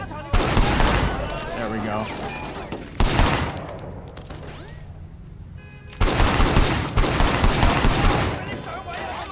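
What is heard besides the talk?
blind fire gunshots in video game Sleeping Dogs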